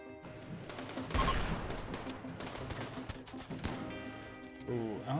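Video game battle gunfire, rapid bursts of shots rattling in the mix with a sharp loud volley early on, continuing under ongoing game sounds and effects.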